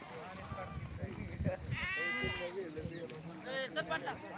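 Sheep bleat repeatedly at a temple flock in the morning, a couple of drawn-out calls standing out, mixed with people talking nearby.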